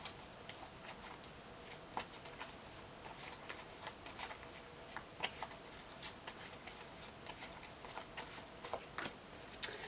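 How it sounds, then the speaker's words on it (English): Tarot cards shuffled and drawn in a quiet room, giving soft papery flicks and light taps scattered steadily over a faint background, with no talking. "let's see what we pull from the cards here"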